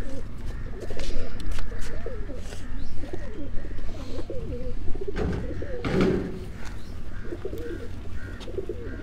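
Pigeons cooing in soft, repeated rolling calls, close by, with faint background noise and a brief louder rustle partway through.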